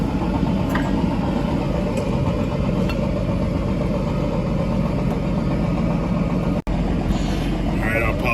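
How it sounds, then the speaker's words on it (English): Truck and car engines rumble and idle steadily around a busy tow yard, a continuous mid-distance drone filling the whole stretch with no clear pauses. "there's a lot of trucks and stuff coming in and out."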